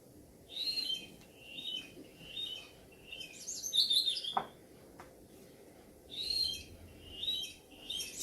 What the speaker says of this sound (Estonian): Kuulame, kui ilusti ta laulab oma kevadlaulu.